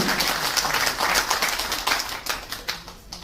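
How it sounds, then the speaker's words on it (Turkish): Audience clapping at a literary magazine's short story competition award night, a dense, steady patter of many hands filling the hall, fairly close and continuous without any voices. "Alkışlarınızla Murat Aydın'ı davet ediyorum."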